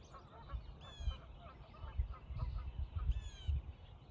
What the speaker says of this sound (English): There's so many birds here.